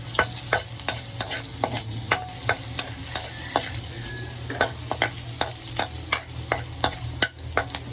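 Onion sautés in a hot pan with a steady sizzle, broken by frequent sharp scrapes and clacks of stirring at an uneven rhythm, close and clear, with no voices.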